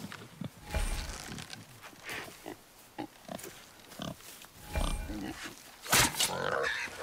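A wild boar in the video game God of War grunts and snorts close by, with irregular heavy footsteps and rustling between the grunts.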